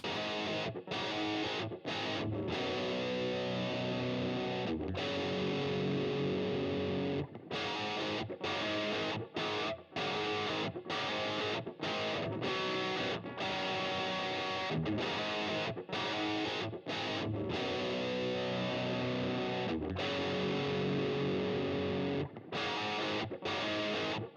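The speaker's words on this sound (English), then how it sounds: "it's going to give it that crunch, that distortion that you want on this type of guitar part" Crunchy, heavily distorted electric guitar playing chugging chords, loud and sustained with short breaks between phrases.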